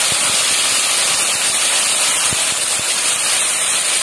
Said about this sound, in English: All of the onion paste goes in. And I'm going to give it a nice fry now again in the same oil.